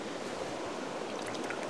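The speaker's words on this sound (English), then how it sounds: "a babbling brook" A babbling brook in Tuscany gives a soft, steady rush of flowing water, faint and continuous, heard alone without voices.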